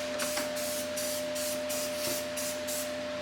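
Spray paint hissing from an aerosol can during rocker panel and cab corner rust repair on a 2007 GMC Sierra 2500; short repeated bursts of spray over a steady background hum.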